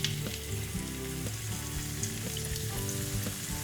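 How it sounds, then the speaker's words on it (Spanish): Potatoes fry in oil that is not very hot, giving a steady close sizzle and bubbling hiss throughout, with faint clinks and stirring now and then. "Primero, freímos las patatas"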